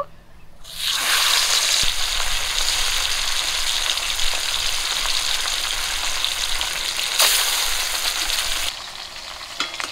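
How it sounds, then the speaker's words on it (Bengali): Pabda fish fry in the same hot oil used for small fish, producing a loud, close, steady sizzle with crackles that starts abruptly, swells briefly late on, then drops to a softer hiss. "একই তেলে আমি পাবদা মাছগুলো ভেজে নেব।"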